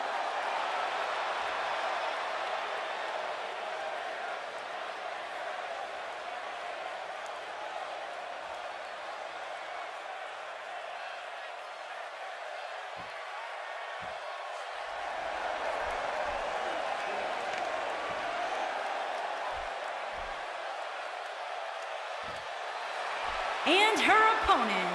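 A wrestling arena crowd keeps up a steady, broad roar of cheering for a women's singles match, with a commentator talking over it and a brief louder burst near the end.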